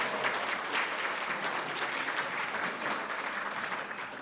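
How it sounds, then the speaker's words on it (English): A crowd at an institute's opening remarks applauds steadily, dense clapping at an even level that tapers slightly toward the end, with no talking. "please, a round of applause for the Great Institute staff"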